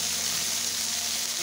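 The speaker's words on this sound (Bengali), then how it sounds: "পেঁয়াজ বাটাটা একটু ভেজে নেব।" Onion paste frying in a pan for a Bengali fish curry, a steady close hiss and sizzle of oil that holds evenly for the whole short moment, with no talk.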